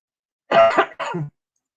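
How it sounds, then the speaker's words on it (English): A person coughs twice in quick succession, close and fairly loud, with a throaty rasp, then silence. "Excuse me, I have to cough."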